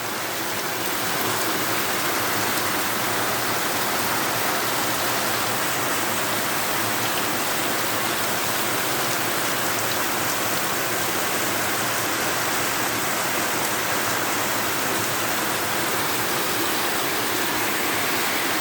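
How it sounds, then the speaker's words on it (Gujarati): Steady, dense roar of heavy rain pouring down continuously, a loud even wash of noise with no voices. "જોરદાર વરસાદ પડી રહ્યો છે મિત્રો, ધોધમાર।"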